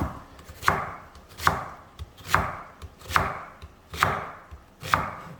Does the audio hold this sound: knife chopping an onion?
yes